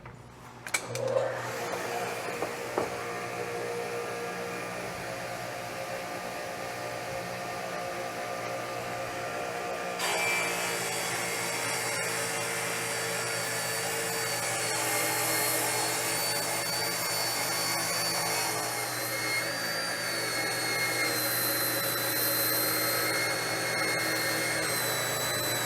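A power saw cuts wood to flatten the edge of a board for an epoxy resin and wood coffee table. A loud, continuous motor whine with cutting noise holds for about 25 seconds and grows harsher after ten seconds.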